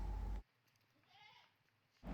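A Jamunapari cross goat and her kids on a farm in Pattambi, Palakkad; one faint, wavering bleat rises briefly in a quiet pause between bursts of louder noise.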